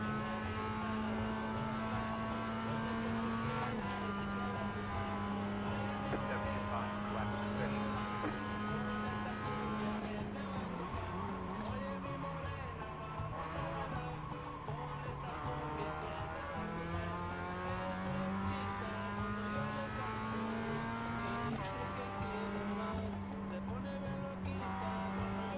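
A race car engine in the iRacing sim screams continuously at high revs, its pitch climbing and dropping with gear changes and corners, loud and steady throughout with no pauses.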